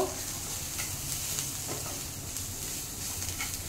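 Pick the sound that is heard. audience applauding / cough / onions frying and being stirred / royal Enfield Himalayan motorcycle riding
onions frying and being stirred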